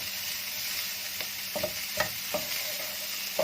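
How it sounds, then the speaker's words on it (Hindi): Spiced filling with red chili for bread rolls frying in a pan: a constant close sizzle broken by several distinct scraping stir strokes, with no talking. "और इसे अच्छे से मिक्स करें।"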